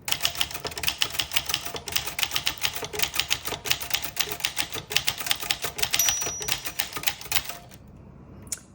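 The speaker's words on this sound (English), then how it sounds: "So I am just gonna type really quick a sentence so you can hear it." Keys on a 1961 Wizard TrueType typewriter strike in a quick, uneven burst of crisp, close clacks for several seconds, then the typing stops and the sound falls quiet.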